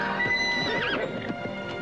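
A band of horses neighs and whinnies loudly and up close, several overlapping calls rising and falling, with hooves clip-clopping underneath; no voices.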